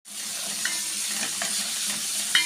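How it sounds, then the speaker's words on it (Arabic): Garlic frying in a spoonful of ghee for a tripe sauce, giving a steady close sizzle with occasional light stirring scrapes, and no talk. "معايا معلقه سمنه، هنزل عليها بالثوم"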